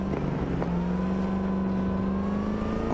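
Electric car accelerating in Cyberpunk 2077, a smooth rising whine that climbs steadily over a constant low drone, loud and close with no pauses.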